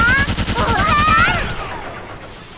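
Rapid-fire bursts from a minigun in the Sword Art Online MMORPG video game, a loud, fast rattling stream of game gunfire that cuts off after about a second and a half and trails into a fading echo.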